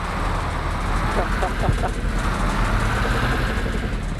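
A jeep pulls away in a multiplayer survival video game, its engine droning steadily at moderate volume with a low rumble throughout, while a voice talks briefly over it.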